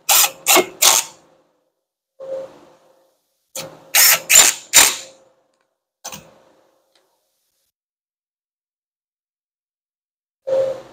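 Ratchet clicks in short bursts while brake bracket screws are tightened on a Hyundai Sonata's front brakes, several quick clustered runs separated by pauses, close and fairly loud with no talk.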